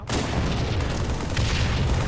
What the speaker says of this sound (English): I freaking pegged him with a frag